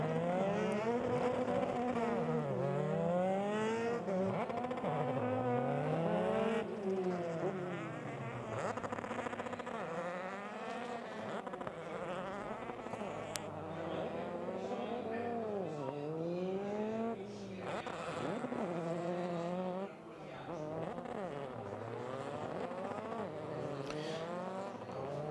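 Euroformula Open cars at Monza in 2015 creep slowly in a pack behind the leader through the Parabolica, warming their Michelin tyres; several engines drone and rise and fall in overlapping tones, near and steady throughout.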